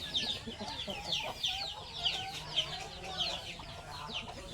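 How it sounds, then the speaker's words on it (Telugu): Several hens cluck repeatedly close by while chicks peep in quick, high bursts, a busy overlapping chatter from a group of chickens. "ఇవన్నీ కోడి పిల్లలండి"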